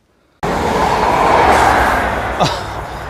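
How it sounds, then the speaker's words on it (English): A train rushes past near Starcross on the Devon coast south of Exeter, a loud sustained roar of wheels and rail noise with a brief squeal near the end, no voices. "I honestly can't believe how many trains there are. They're literally coming past every few minutes."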